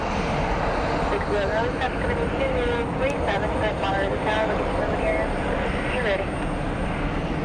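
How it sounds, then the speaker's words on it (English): Jet airliner passing at Columbus John Glenn International Airport, a broad continuous roar with shifting whine, fairly close and loud, while a person talks over it. "It's a gorgeous airplane."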